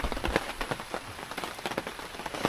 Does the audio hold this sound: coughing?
no